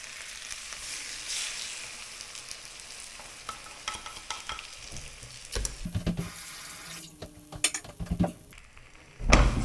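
An egg cooking in a pan over potato chips, with soft frying noise, scraping and utensil clatter rising toward the end; no one speaks.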